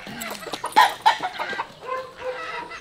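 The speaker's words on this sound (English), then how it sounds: "check out the chickens and ducks." Chickens clucking and squawking on a farm in the Philippines, several birds close by with short repeated calls in an irregular burst; no ducks are distinguishable.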